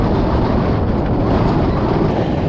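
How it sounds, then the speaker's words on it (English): Cold wind buffeting the microphone on the Knott fell summit in the Lake District near Mardale Head, a loud continuous roaring rumble with no pauses and no voices. "A wind and a cold wind, but at least we've got a view"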